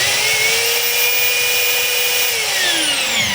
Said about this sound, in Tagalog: Testing natin sa drill.